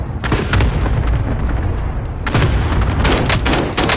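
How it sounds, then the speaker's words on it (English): Airstrike explosions in a combat video game erupt in a loud, continuous barrage of booms and blasts, with a brief dip midway before another heavy cluster of detonations rolls in, close and dominant throughout. "Airstrike away."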